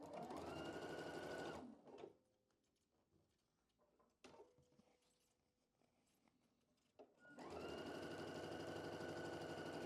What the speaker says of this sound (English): let's sew this real quick